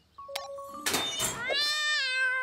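Cartoon kittens meow in a short burst, one rising mew followed by a louder, drawn-out wavering cry, close and clear with no talk.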